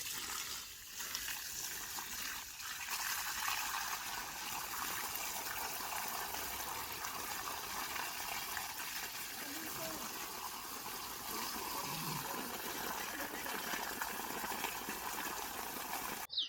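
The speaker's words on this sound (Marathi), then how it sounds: "ह्या झाडावर पाणी सोडतोय खाली" Water runs steadily from a hose or pipe onto the ground at the base of a tree, a continuous broadband rush close by with faint voices underneath.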